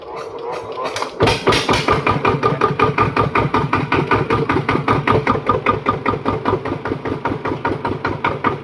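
A small 12-horsepower used Kubota diesel tractor engine chugs steadily with a fast, even knocking rhythm, close and loud, after a brief start-up clatter.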